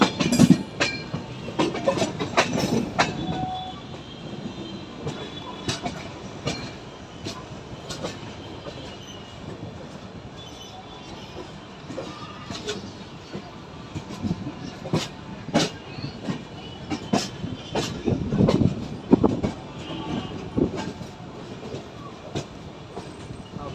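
A train pulling into Vijayawada railway junction, its wheels rumbling and clacking over the tracks with intermittent squeals and clanks, steady and fairly close, with no talk over it.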